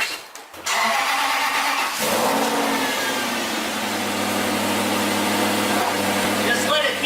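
A real sports car's engine starts with a sharp crank and then settles into a steady, loud idle that runs close and continuous to the end.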